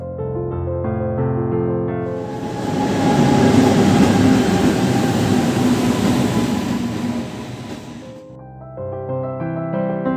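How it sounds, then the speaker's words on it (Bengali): The Haldia Express moves through a station with a loud rumble and rattling wagons that build, hold, then fade, while musical tones are heard at the start and end. "ট্রেন এখানে প্রায় 2 মিনিটের মতো দাঁড়ালো"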